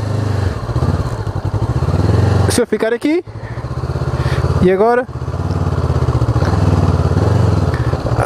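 An off-road motorcycle engine revs and drops as clutch and throttle hold the bike on a climb, with a steady throb broken by two sharp throttle blips while someone talks over it.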